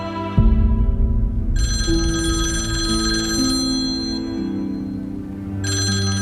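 A telephone rings repeatedly in bursts of bright electronic tones, fairly loud, with a low hum underneath and no talking.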